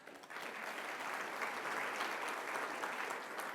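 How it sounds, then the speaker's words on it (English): A room full of people at a members' conference applauding steadily, dense continuous clapping that holds at an even level throughout. "Good, round of applause."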